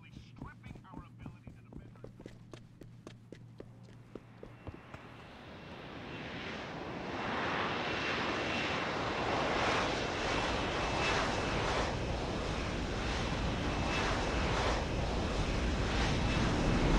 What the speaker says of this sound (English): I think the helicopter is about to take us away